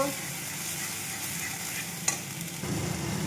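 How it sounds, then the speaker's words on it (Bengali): Ginger, garlic and dried chilli paste frying in a pan with onions, a steady close sizzle with stirring scrapes and one sharp clink near the middle, running alone without talk. "আমি দিয়ে দেব আদা রসুন আর শুকনো লঙ্কার পেস্ট দিয়ে এটাকে 2 মিনিট ভেজে নেব"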